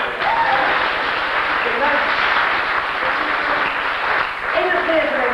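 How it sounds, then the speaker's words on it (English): A theatre audience at an adult pantomime of Dick Whittington applauds in a dense, loud, sustained wash of clapping with some cheering, close and continuous throughout. "Give yourselves a round of applause."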